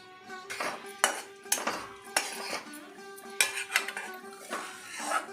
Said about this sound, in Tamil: இப்போ சாப் பண்ணி வச்ச முந்திரி பாதாம் ஏலக்காய் எல்லாத்தையும் அந்த நெய்யில் போட்டு கொஞ்சம் ட்ரை ரோஸ்ட் பண்ணிக்கலாம்